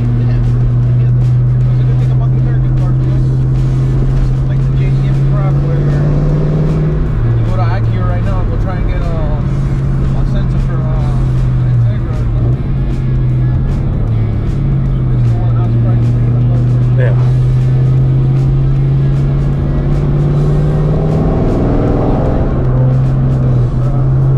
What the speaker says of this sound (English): let you guys enjoy this sweet V8 for a minute or so because I just love how these cars sound